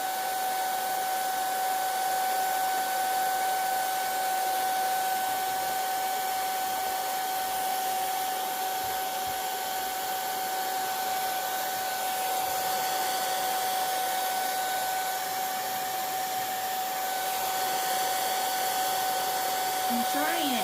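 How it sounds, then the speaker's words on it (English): A hair dryer drying a painted canvas blows with a steady, loud whine and constant airflow hiss, running unbroken from start to finish. "I'm just using a blow dryer that I picked up at Walmart."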